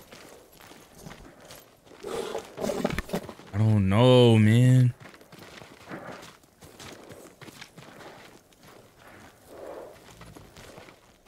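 Samurai horses' hooves in the game Ghost of Tsushima, heard as faint, steady clip-clopping footsteps under a man's speech, with a loud horse whinny rising and falling near the middle.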